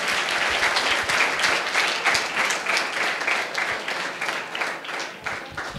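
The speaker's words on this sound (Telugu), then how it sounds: "గట్టిగా అందరూ కూడా చప్పట్లు కొట్టి" An audience of students at a college talk applauds steadily and fairly loudly, many hands clapping in a dense, continuous wash that holds for several seconds without letting up.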